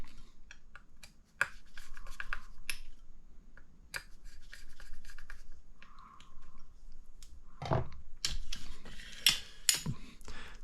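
Shock tower screws on an HB Racing D2 Evo RC car being tightened with a 1.5 ball-end driver: quiet close clicking and scraping of metal tool on screws in short bursts, with a couple of louder rattling handling noises near the end.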